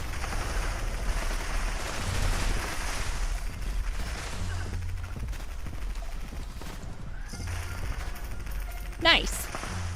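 A full magazine of rapid gunfire poured into the boss Earl in Fallout 76, a dense continuous rattle of shots over low rumbling game noise, with a sharp mechanical click near the end and no talking.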